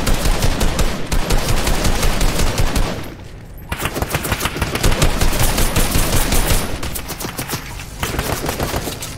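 A purple primal shotgun in Fortnite fires in long, loud rapid-fire strings of close shots, breaking off briefly twice before resuming, with no voices over it.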